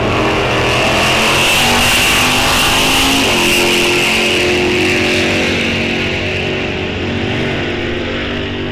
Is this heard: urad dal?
no